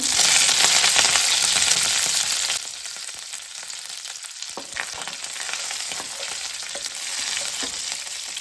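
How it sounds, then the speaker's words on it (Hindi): Mustard seeds and curry leaves crackle and spatter in hot oil, a bright, dense fizz that eases into quieter popping and scattered crackles, close up and without speech. "इन्हें अच्छे से क्रैकल होने देते हैं।"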